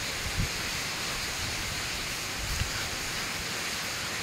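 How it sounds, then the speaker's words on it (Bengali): A dense, steady roar of heavy rain falls during a late-night storm, loud and continuous, with a few faint low thumps underneath and no voices. "অঝোরে বৃষ্টি হচ্ছে।"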